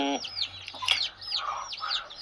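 Desi hens on a free-range, open-area poultry farm, several short clucks and chirpy calls in quick succession, fairly close and clear with a quiet background.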